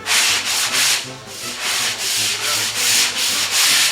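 Hand block sanding on the body of a 1966 custom Pro Street Chevelle, a loud close-up rhythmic scrubbing of about eight quick back-and-forth strokes with a brief pause, no talking.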